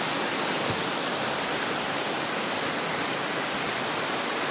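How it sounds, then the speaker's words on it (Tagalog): Fast-flowing water rushes strongly at a cold mountain spring, a steady, loud, dense roar that continues unbroken, with no talk over it. "Ang lakas ng agos ng tubig."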